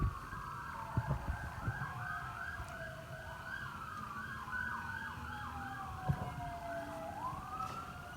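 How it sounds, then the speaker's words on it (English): Emergency sirens wail continuously, sweeping up and down in overlapping cycles, moderately distant, with a few soft thumps underneath. "Do you like these sirens?"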